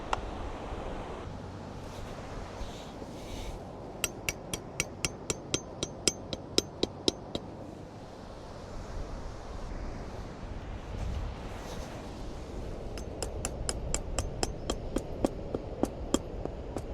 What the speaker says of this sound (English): I'm gonna hammer down the stakes with the butt of this hatchet